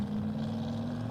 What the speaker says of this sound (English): Sounding really healthy off the line. 1975 vintage 8-cylinder Chevrolet small block.